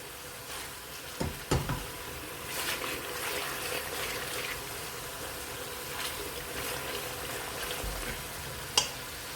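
Masala of tomato and onion frying in a pan for urad dal, a faint, steady sizzle and hiss throughout with a few soft knocks.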